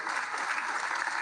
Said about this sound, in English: Y'all like the claps?